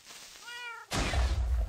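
A cat meows once in a Minecraft lucky block game: a clear, close tonal mew, then a sudden burst of louder broadband noise that runs to the end.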